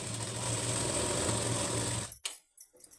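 A sewing machine runs in a steady, loud mechanical whir while stitching blouse lining, then stops abruptly, followed by a few clicks and handling sounds.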